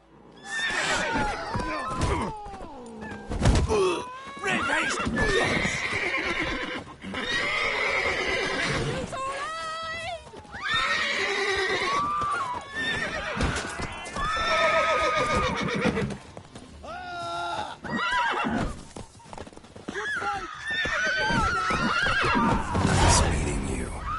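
Roach, Geralt's horse in The Witcher game, whinnies repeatedly with neighs and clip-clopping hooves, mixed with game voices talking throughout at steady loudness.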